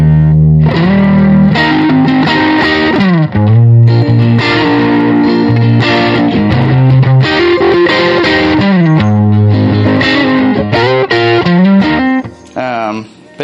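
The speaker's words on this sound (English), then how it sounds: "overdriven, blues driver thing" Overdriven electric guitar through a Blues Driver pedal, playing sustained bluesy lead lines and chords, loud and continuous with a brief drop near the end.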